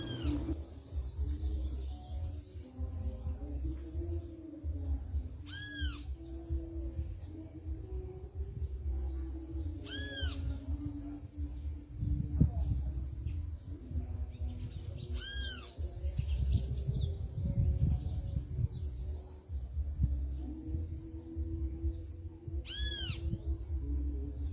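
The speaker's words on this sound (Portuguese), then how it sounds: "Chegou aí uma sabiá. Se não me engano, é uma sabiá coca" A sabiá coca thrush calls at a fruit-baited bird feeder on a rural property in Nazaré das Farinhas, Bahia, with a few short, clear repeated whistled notes spaced several seconds apart over steady outdoor background rumble.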